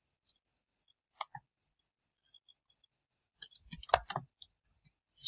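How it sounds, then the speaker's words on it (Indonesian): Light, sparse clicks of computer keys, including a Tab keypress, scattered at an irregular rhythm over a quiet background, with a denser cluster of taps near the end. "lalu tekan tombol Tab pada keyboard."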